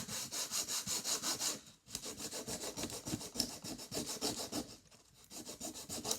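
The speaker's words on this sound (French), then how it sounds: "Vous limez." A model train wagon roof is filed by hand in quick regular back-and-forth rasping strokes, close and quiet, with two brief pauses between runs.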